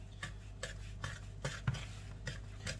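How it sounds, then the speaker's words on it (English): A spoon stirring flour into cookie dough in a bowl, soft regular scraping strokes about every half second, close and quiet, with no talking. "I'm going to have half of the flour, and I'm just going to stir it in"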